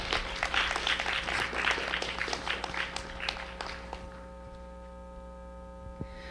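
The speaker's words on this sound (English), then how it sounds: "let's give the 4th and 5th graders a big round of applause" An audience at a county science fair applauds with a dense wash of clapping for about four seconds. The clapping then fades out, leaving a low electrical hum and a few stray claps.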